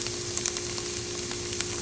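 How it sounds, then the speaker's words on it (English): Steady crackling sizzle of tofu frying in a hot pan, with scattered pops and spits over a constant hiss. "first thing I'm doing is frying the tofu"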